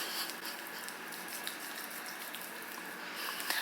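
Water runs steadily from a tap at a bathroom sink during an evening face-cleansing routine, a soft continuous wash with faint drips and splashes throughout, moderately quiet and close.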